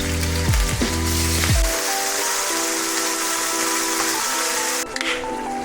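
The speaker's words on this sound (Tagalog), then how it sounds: "Then it's time to saute the beef." Two kilos of beef sizzle loudly as they saute in a pan for kaldereta, a steady hissing crackle that follows a few clanking knocks at the start, with music playing underneath.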